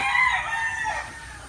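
A gamecock stag rooster at a cockfighting derby in Maragondon, Cavite lets out one short crow, clear and fairly close, with no talking over it.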